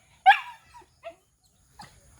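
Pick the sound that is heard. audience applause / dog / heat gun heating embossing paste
dog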